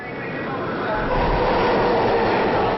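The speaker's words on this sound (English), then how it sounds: "The train was coming in like" A New York City subway train pulls into a station with a loud, sustained roar and rising rumble of wheels on rails, swelling as it draws closer.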